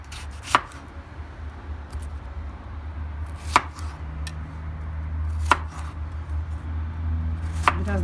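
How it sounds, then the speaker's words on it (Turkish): A knife chops tomatoes on a cutting board in slow, separate strokes, four crisp thuds spaced a couple of seconds apart over a low hum. "Şimdi domatesi de doğrayalım."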